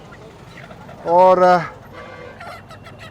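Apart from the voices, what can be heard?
chickens at a village market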